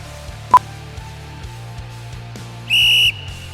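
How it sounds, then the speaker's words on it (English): A sharp, shrill workout whistle blast during a Tabata session sounds once, loud and steady for about half a second, after a brief click and low background hum. "listen out for the whistles"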